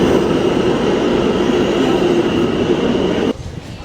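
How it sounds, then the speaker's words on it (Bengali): A Manhattan-bound subway train arrives at the station with a loud, steady rumble and roar of cars and wheels, close by, then drops off abruptly near the end. "তাই আমরা ওয়েট করছি ট্রেন কখন আসবে, আসলেই স্টার্ট করে চলে যাবে।"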